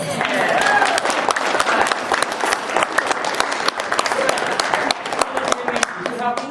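An audience bursts into loud, sustained applause after a juggling rings trick, dense clapping filling the room throughout, with voices mixed in.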